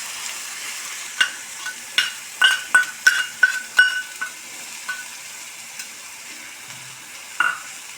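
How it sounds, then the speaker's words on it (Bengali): Onion, garlic and ginger paste is stirred in a frying pan over steady frying sizzle, with a run of distinct scraping knocks in the middle that thin out toward the end. "এরপর দেখো মা এটাকে নাড়িয়ে নিচ্ছে ভালোভাবে"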